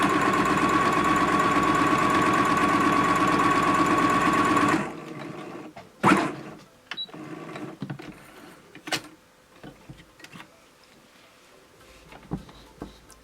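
A sewing machine stitches fabric with a fast, steady mechanical whirring hum for about five seconds, then stops, leaving soft clicks and handling sounds close by.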